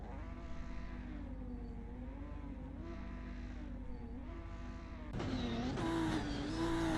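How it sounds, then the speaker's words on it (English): Ginetta Supercup race cars idle and rev on the starting grid in a sim racing game at Oulton Park, a steady droning engine note with wavering pitch that jumps louder and higher near the end as revving increases. "Excessive revving in the engine from a couple of these drivers."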